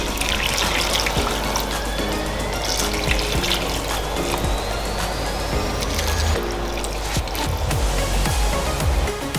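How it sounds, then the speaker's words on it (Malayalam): Heated water pours steadily into a pot of chicken biryani with a continuous splashing rush, close by and fairly loud, its pitch slowly rising as the pot fills. "ചൂടാക്കിയ വാട്ടറാണ് ഞാൻ ഒഴിച്ചു കൊടുക്കുന്നത്"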